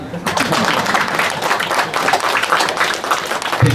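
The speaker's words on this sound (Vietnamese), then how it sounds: "Vỗ tay." Applause from the crowd at a Vu Lan Buddhist ceremony at Chua Dai Nhat Nhu Lai temple in San Jose, California. Dense, steady clapping fills the room for nearly four seconds.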